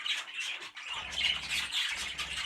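A pet bird squawks loudly and repeatedly in shrill, harsh bursts, with a brief pause near the start before the calls resume, close to the listener.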